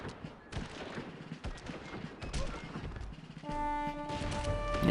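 Musket volleys crackle back and forth in a gunfire exchange in Civilization IV: Colonization, as scattered pops and bursts under game audio. A sustained musical tone rises near the end.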